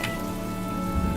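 Rain falls steadily in the video game Honkai: Star Rail, a continuous hissing patter on surfaces that rises slightly toward the end, with no voices.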